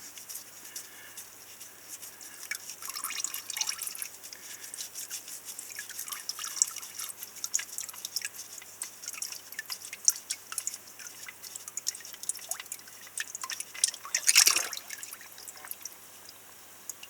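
Transmission fluid drains from the AISIN 8-speed gearbox of a 2016 BMW X1 F48, a steady soft trickle with scattered drips and a brief louder splash near the end, heard close with no talking.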